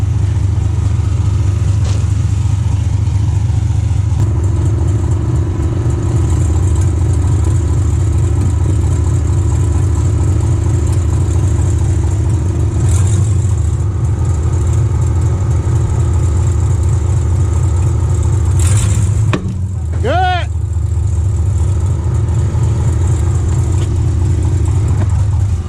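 A 2011 Ford F450 truck engine rumbles loudly and steadily close by while it tugs a stuck wheel with a strap, with a brief sharp screech and clunk near the end as the strain releases, then the low idle continues.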